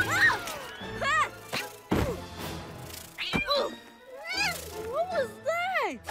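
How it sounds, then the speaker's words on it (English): An escaped Tooka kitten in the animated Star Wars series Young Jedi Adventures gives a run of squeaky, bending meows, mixed with sharp cartoon thwacks and crashes. "Hey, Guy, I'm looking for a Tuca kitten that escaped."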